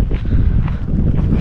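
Chilly wind gusting on the Pacific Crest Trail, buffeting the microphone with a steady low rumble and roar, loud and close, no voices.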